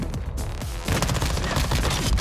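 Close-range gunfire from a John Wick-themed shooter game, loud bursts of rapid shots crackling densely and growing heavier after the first second.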